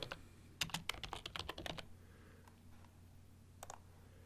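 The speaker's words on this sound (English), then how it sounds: "I'm just going to type in 360 video" Typing on a computer keyboard while entering a short text title in video editing software: a quick burst of close, crisp key clicks, then a pause and a couple of final taps.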